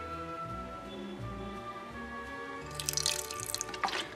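Vinegar poured in a brief trickle into tuna pasta in a home kitchen: a short, soft splash and drip near the end, after quiet background hum.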